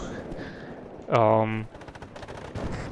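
Rapid light rifle gunfire from the real-time strategy game WARNO crackles in quick bursts, interrupted by a loud, sustained tonal blare in the middle; a voice talks faintly underneath.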